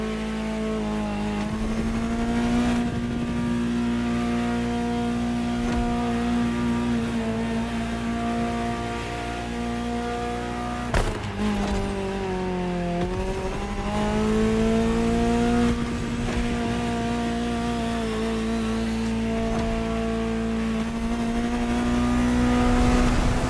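A Ferrari supercar in The Crew Motorfest racing game revs and holds a loud, steady engine drone close up, with gear shifts and a sharp dip near the middle before climbing again, no voices.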